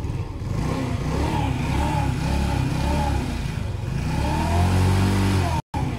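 A restricted 50cc motorcycle engine revs steadily throughout a warm-up, with rising and falling pitch sweeps and a brief dropout near the end; loud and close, with building works faintly in the background.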